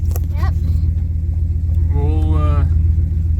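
A 2014 Ram 1500 with the 5.7L engine idles in a low, steady rumble throughout, with a person speaking briefly over it.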